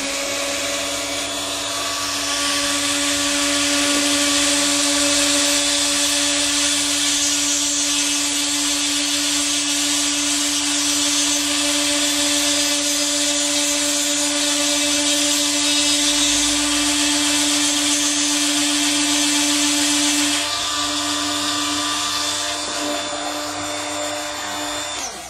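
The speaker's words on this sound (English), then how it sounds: "we have to grind away part of the PCB that forms the antenna, so I'll do that now using this Dremel grinding tool" A Dremel rotary grinding tool cutting away part of a PCB antenna on a Bluetooth USB adapter: a loud, continuous high-pitched whine that holds steady for about twenty seconds before winding down.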